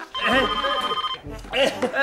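An old telephone bell rings in a studio office, a sustained trill running through most of the clip with a pause, heard under and alongside people talking loudly nearby.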